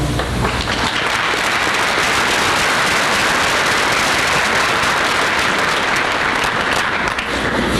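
Steady, loud audience applause at a high school honor awards assembly, thanking parents and staff, a dense unbroken clapping that holds evenly throughout.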